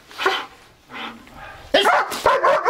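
A young Shield puppy barks during hot dog protection training, a few close, sharp yips and barks, the louder cluster coming near the end of the short stretch.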